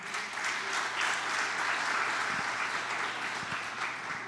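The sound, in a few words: church congregation applause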